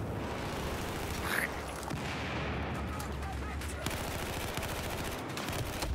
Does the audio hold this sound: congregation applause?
no